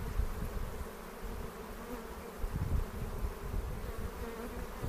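Dense buzzing of many honeybees on a full frame lifted from a hive during an inspection, a steady close swarm drone that swells and fades slightly, with no talk.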